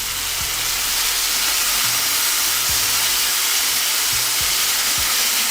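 A pepper steak sears in a hot pan right after being flipped, a loud, close, continuous sizzle with a few soft knocks of the pan or utensil underneath and no talking.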